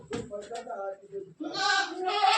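Small young goats on a farm in the Konkan countryside at night give a few short, nasal bleats close by, followed by a longer, louder bleat.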